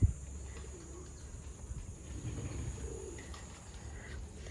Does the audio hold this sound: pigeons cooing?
yes